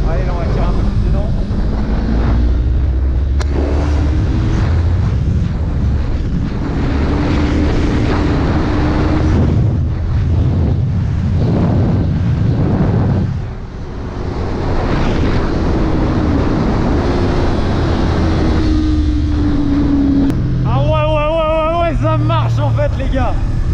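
A Yamaha R3 motorcycle engine pulls hard under acceleration, a loud continuous drone heavily buffeted by wind rush, with the pitch rising and falling through gears and a rider talking over it.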